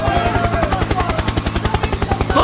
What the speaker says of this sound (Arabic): هليكوبتر هليكوبتر